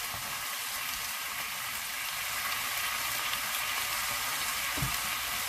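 Meat sears in a pan alongside cooking onions, producing a constant, even sizzle with a soft low rumble underneath and one brief thump near the end.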